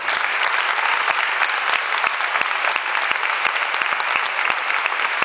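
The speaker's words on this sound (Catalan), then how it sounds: "Un fort aplaudiment" Audience at a band concert applauds a pasodoble with loud, dense, sustained clapping that stays steady throughout.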